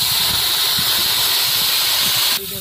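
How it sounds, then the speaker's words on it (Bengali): Water hits a hot pan of well-fried spices for a Bengali rui fish curry with cauliflower, giving a loud, steady, close hiss and sizzle that lasts about two seconds and then cuts off abruptly. "এবার আমি জল দিয়ে দেবো।"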